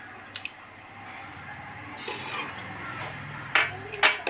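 Lumps of asafoetida fry in coconut oil in a pan with a soft, quiet sizzle, broken by a few sharp utensil clinks near the end.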